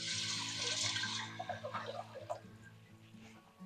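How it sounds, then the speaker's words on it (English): Water pouring into a stock pot to make elderberry syrup, a loud rushing splash at first that tapers into lighter trickles and drips, with a faint ticking in the background. "I've got 6 cups of water here that I'm going to put in my stock pot."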